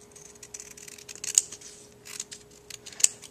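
Scissors trimming a small piece of paper for a mini brag book, a few faint quiet snips with two sharper cuts, close up in a quiet room.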